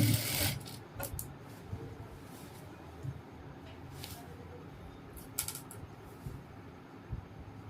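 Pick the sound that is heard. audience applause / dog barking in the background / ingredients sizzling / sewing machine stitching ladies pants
sewing machine stitching ladies pants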